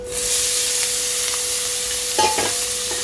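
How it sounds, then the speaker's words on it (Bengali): Prawns coated in turmeric and salt frying in hot oil for a Bengali potol chingri dish: a loud, steady sizzle close up, with a few spatula stirs and clatters near the end. "এবার আমি ওই তেলে কিছুটা চিংড়ি মাছ আড়াইশো গ্রাম চিংড়ি মাছ আমি কেটে বেছে ধুয়ে নিয়ে নিয়েছিলাম হলুদ লবণ মেখে রেখেছি সেটাকে ভেজে নিচ্ছি"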